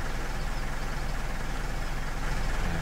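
A tractor engine in Farming Simulator 15 runs at a steady, low rumbling drone, close and unchanging throughout with no talking.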